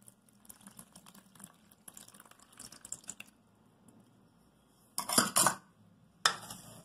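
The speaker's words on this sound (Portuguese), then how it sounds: "Vou colocar água." Water is poured into a pan already holding sugar while making maria mole, with soft clinks of utensils and pot early on, then two louder bursts of splashing, filling water near the microphone.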